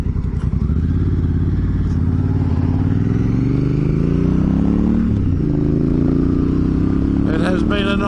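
A Honda Africa Twin motorcycle cruising on a motorway, its engine a loud, steady drone that climbs gradually in pitch, with wind rush and a brief clatter near the end.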